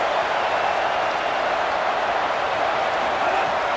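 A home stadium crowd at an Alabama vs Ole Miss college football game roars in a steady, dense wash of cheering that holds at an even level throughout.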